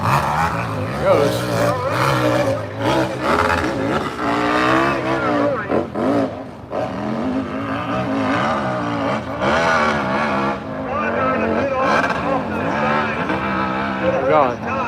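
A KTM 990 motorcycle tears down a nitro drag-racing strip at Freemansburg, PA, its loud, dense engine roar sustained throughout under a running announcer's voice.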